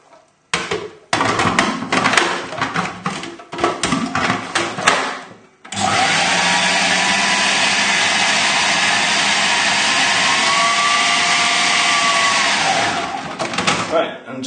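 A food processor whirring through a coriander and lemon crust mix, first in short choppy pulses, then in one long loud continuous blend that winds down at the end, close up, with talk around it.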